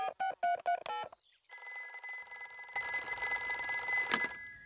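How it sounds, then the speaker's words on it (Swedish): Cartoon phone sequence: a rapid run of about five keypad dialing tones, a brief pause, then a steady synthetic ringing tone that swells and continues to the end, clear and close with no talk. "Jag vet. Jag ringer till farfar hund."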